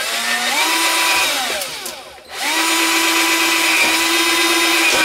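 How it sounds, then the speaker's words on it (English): A power drill bores holes through plastic Dollar Tree flower pots with a quarter-inch bit, whining loudly and steadily, easing down briefly midway before spinning back up to full speed. "we're just going to drill holes through each one of these"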